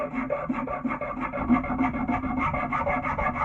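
Steady rhythmic rasping of a rasp smoothing scratch marks from a wood surface, repeated back-and-forth strokes, close and continuous with no talking.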